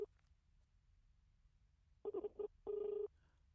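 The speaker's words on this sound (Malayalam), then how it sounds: "റിങ് പോകുന്നുണ്ട്." A telephone ringback tone on a call, a steady mid-pitched tone sounding in short pulses and then one longer ring after about two seconds of near silence, clear and close with no talking.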